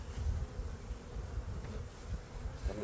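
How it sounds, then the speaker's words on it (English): Dense, steady buzzing of a large swarm of honey bees packed inside a hive box, a continuous low drone with no talking. "there's a lot of bees in here"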